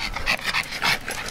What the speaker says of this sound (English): So many puppies.